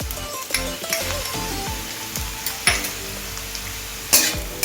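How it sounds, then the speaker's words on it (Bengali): Grated ginger stirs and fries with softened onions in a pan, a close sizzle under repeated knocks and scrapes of a spatula, with a louder clatter near the end. "আদাটাকেও একটু নেড়ে ছেড়ে নেব"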